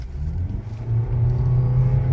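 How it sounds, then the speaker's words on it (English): A Honda Clarity hybrid accelerates hard from a stop with traction control off. A deep, loud engine rumble swells as the car pulls away, with no talking. "Engine spools up, electric motor kicks in, off we go."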